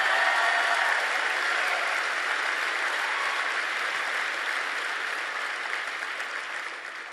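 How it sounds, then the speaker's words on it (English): Audience applause at a Turning Point event at Indiana University in Bloomington, a dense, steady clapping from a large crowd that slowly thins and softens toward the end. "Why don't you guys go ahead and round of applause for yourself?"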